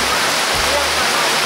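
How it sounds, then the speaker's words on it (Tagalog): Steady rain falls beside a flowing river in the rural Philippine countryside, a dense continuous hiss of water close by, unbroken and loud with a faint low murmur underneath. "And ngayon nagkataon na umuulan."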